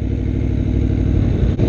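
A 2016 Aprilia Tuono V4 1100 RR shifts up with its quick shifter, a loud close engine roar with a short dip mid-pull as the gear changes, then rising again.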